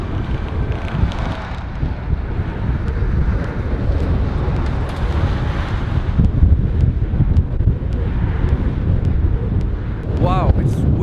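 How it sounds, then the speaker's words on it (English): Strong wind in the Icelandic highlands buffets the microphone with a loud, continuous roar and gusty low rumble, with a voice talking partly under it. "it's way too windy"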